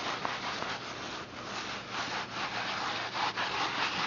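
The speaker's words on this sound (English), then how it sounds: "Now you're going to rub this on your wall." A wet rag loaded with thin cob mix is rubbed back and forth across a cob wall, making a steady close scraping, rubbing sound that runs continuously with no talking.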